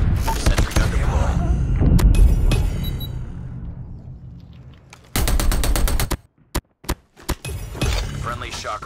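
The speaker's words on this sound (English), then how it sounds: "Sentry gun deployed." A sentry gun deploys in Call of Duty Mobile, giving a burst of mechanical ratcheting and clanking that fades into a quiet whir. Loud rapid clicking bursts follow and then cut in and out.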